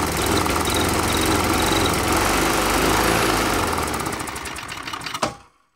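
A small engine converted to run on propane runs loudly and continuously with a rattling, chugging buzz, then abruptly stops and falls silent.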